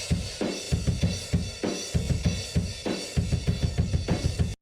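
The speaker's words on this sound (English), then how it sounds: "Mixing the room mics with Telos drums, and I'm already compressing them quite hard." Room mics on a drum kit, played through Telos drums and heavily compressed, give a loud, roomy beat with thumping kicks and snare hits and long, swelling sustain between strikes, heard alone without speech.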